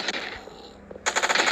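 Gunfire rings out in a Poki shooting video game, with a rapid burst of close, loud shots after a brief quieter gap with a single earlier shot.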